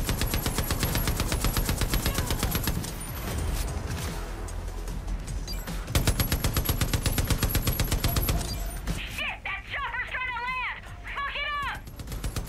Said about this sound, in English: Get on the minigun.